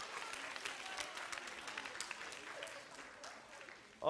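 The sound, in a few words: youth group applause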